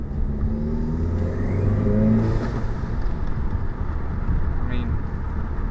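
A VW MK7 Jetta GLI with its muffler deleted accelerates through a first-gear pull, its engine drone rising steadily and filling the cabin from start to finish, with occasional voices over the engine.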